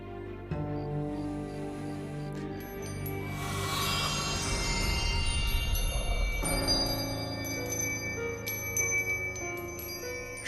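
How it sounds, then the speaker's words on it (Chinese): An eerie ringing bell sounds with sustained metallic tones that swell into a dense, shimmering wash midway before thinning into scattered, lingering high chimes. "是妖铃声。"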